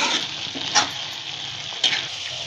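Peas and soya chunk sabji frying over a high gas flame, a steady close sizzle broken by two sharp stirring scrapes in the pan.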